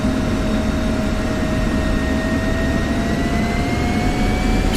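Fighter jet in the DCS World 2.8 flight simulator on the Persian Gulf map, rolling for takeoff: a loud, steady engine roar with thin whining tones that climb slowly in pitch, with no voices.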